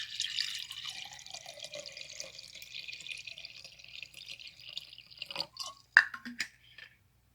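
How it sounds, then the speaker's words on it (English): Water streams steadily into a clear jar for several seconds, a bright, fairly quiet pour that stops, followed by a few soft drips and light clinks. "Fill 3/4 of the jar with water."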